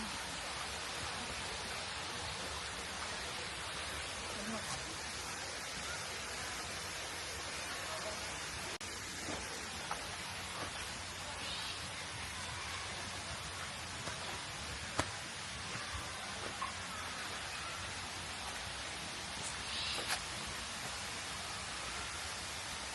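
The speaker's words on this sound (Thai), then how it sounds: "ได้ยินเสียงน้ำตกไหมทุกคน" The Chanta Then waterfall flows with a constant, even broadband rush along a forest trail, a full steady roar that does not let up, with faint brief clicks and voices here and there.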